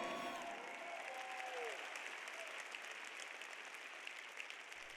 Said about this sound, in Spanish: Aplaudan si predico bien.